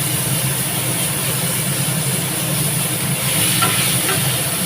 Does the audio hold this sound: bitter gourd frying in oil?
yes